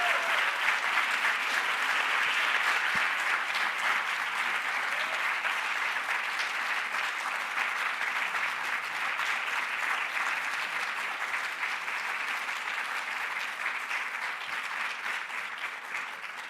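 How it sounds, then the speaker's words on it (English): Sustained, dense audience applause at a Right to Read celebration honoring Toni Morrison Courage to Read Award recipients, a steady loud wash of many hands clapping that holds evenly throughout and tapers only slightly at the end. "big round of applause"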